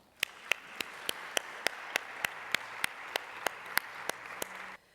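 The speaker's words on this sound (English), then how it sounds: "Please join me with an applause for them." Audience applause at a cultural evening of a UNESCO youth forum with drumming, a broad steady wash of clapping with sharp individual claps standing out, sustained for about five seconds before cutting off.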